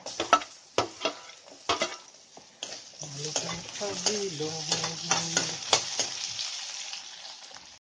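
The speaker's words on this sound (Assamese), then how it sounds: "পিঁয়াজখিনি অলপ ৰঙচুৱা হ'বলৈ দিছোঁ।" Chopped onions sizzle and crackle in a hot pan for a fish and bamboo shoot curry, with a steady frying hiss and sharp stirring scrapes near and fairly loud, and no talk over it.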